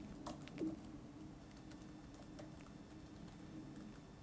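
Quiet, steady typing on a 2018 MacBook butterfly-switch keyboard, soft shallow key clicks pattering at an even pace, faint and close with no voices.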